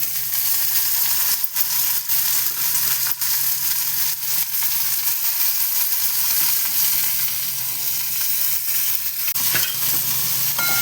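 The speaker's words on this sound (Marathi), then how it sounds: "कांदा मिरची लाल झाली तर थोडी हळद टाकूया फक्त, आणि आपली गवार बटाटा टाकूया." Cluster beans and potato fry with onion, green chili and turmeric in a hot pan, producing a loud, steady sizzle throughout, with occasional stirring scrapes breaking through.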